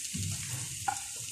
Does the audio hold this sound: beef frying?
yes